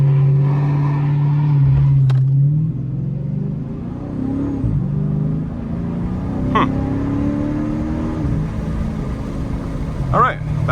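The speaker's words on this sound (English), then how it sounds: "That was actually a pretty decent launch. I did do a little bit of a burnout there" A Dodge car launching with launch control engaged and traction control fully off, a loud engine rumble rising as it pulls away with a short burnout, heard close and sustained while a voice talks over it.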